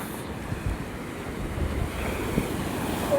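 Sea waves surging onto Madhavpur beach form a steady, broad wash of surf with wind rushing across the microphone, slowly swelling louder toward the end, with no voices.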